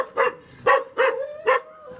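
Dogs bark in four sharp, loud bursts at a steady rhythm, close by, with short pauses between each bark and no talk.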